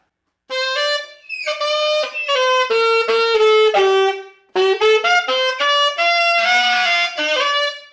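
A saxophone played with poor embouchure plays a series of sustained notes with a thin, buzzy, strained tone, loud and close, after a moment of silence.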